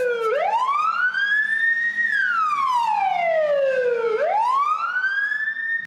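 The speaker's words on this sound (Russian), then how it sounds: "Супруги Мыц под звук сирены проживают каждую смену." Ambulance siren on an emergency call, a loud continuous wail sweeping up and down in long rising and falling cycles, close and steady with no voices over it.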